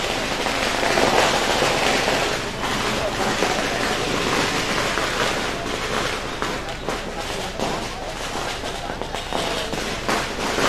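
Dense, continuous crackling of firecrackers bursting in rapid succession, loud and close, with a crowd murmuring beneath it.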